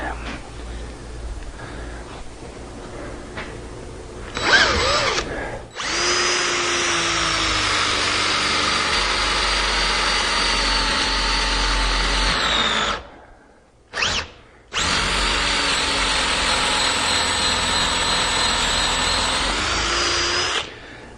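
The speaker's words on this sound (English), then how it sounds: "I think that drill bit might be a little bit dull too" Electric drill boring into hard maple with a slightly dull bit, a loud steady whine in long sustained runs broken by short pauses, close up in a woodworking shop.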